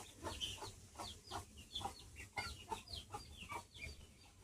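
A grey hen clucks repeatedly in a soft, uneven run of short calls, fairly faint over a low background rumble, with no one speaking.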